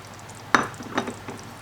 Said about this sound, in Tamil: ஃபிஷ்ஷை வந்து நம்ம ஆட் பண்ணிடலாம்.